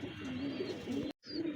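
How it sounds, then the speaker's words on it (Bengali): Silver-coloured racer homer pigeons coo softly close by, low throaty rolling coos repeating through the moment with a brief cut of silence near the end. "রেসার হোমার কবুতর, সিলভার কালারের"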